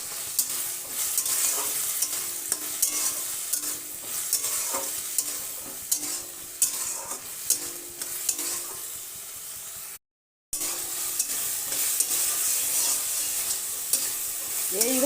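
Green peas stirred while cooking in a pan, a continuous sizzle with frequent scraping spoon strokes, close up, broken by a brief silent gap midway, no talking.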